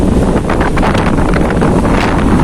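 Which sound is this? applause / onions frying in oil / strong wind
strong wind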